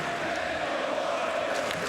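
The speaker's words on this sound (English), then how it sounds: "The crowd is chanting Daniel Horton." Home crowd at a 2005-06 college basketball game, Michigan hosting Illinois, chanting a player's name in a steady, dense roar that fills the arena continuously with no clear break.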